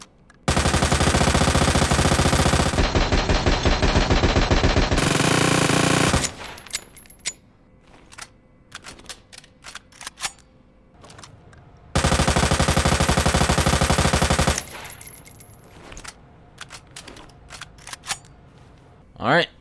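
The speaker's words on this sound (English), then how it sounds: "let's go ahead and test this submachine gun out" In Resident Evil 2 Remake, a submachine gun fires long, loud, continuous automatic bursts. Rapid clicks and game sounds fill the quieter gaps between bursts, and someone talks at times.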